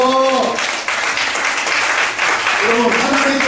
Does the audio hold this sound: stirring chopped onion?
no